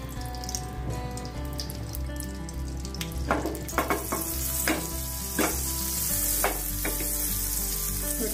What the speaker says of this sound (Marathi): बटर मेल्ट व्हायला आलं की आपण त्यामध्ये टाकूया थोडंसं जिरं